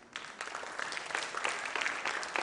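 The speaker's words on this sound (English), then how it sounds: "applause" Parents at a student event give a round of applause, a steady patter of many clapping hands at moderate distance, fairly soft and continuous for a couple of seconds.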